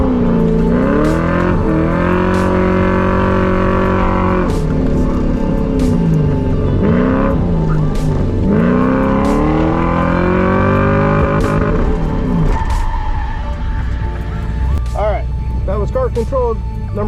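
A Ford Crown Victoria track car is driven hard on a circuit, its engine droning loudly and climbing through rising pulls with shifts between them, while a person talks over it.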